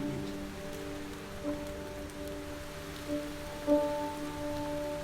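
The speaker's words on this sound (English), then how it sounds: "The rain entered her room and wetted the book she was reading." Steady rain patters on a surface in a soft, even wash, with sustained musical tones running underneath and a few slightly louder drips standing out.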